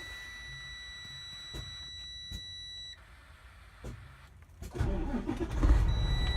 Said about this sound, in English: I'm going to start the cab.